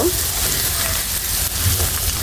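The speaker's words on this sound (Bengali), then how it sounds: "আমি অফ ক্যামেরায় চিকেনটা ভালোভাবে ভেজে নিচ্ছি" Chicken sizzles steadily in a pan as it fries for a macaroni dish, a close, continuous crackle with no talking.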